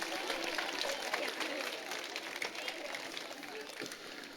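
An audience at a children's choir concert applauds, with sustained, dense clapping that fills the whole span before thinning slightly near the end.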